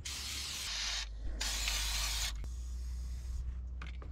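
An aerosol can of rustproofing hisses in several loud spray bursts of about a second each onto a RAM 1500 4x4's painted steel under the hood, separated by short pauses, close to the listener.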